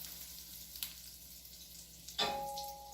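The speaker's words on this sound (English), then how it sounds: "I'm going to add 2 tablespoons of butter to my pan, which has already been heating up" Butter and olive oil hit a preheated pan near the end of a quiet stretch, bursting into a soft, steady sizzle that continues to the close.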